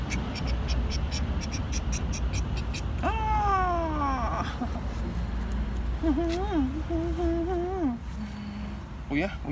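A cat gives two drawn-out, wavering meows, one rising then falling and a later longer one, over steady background noise.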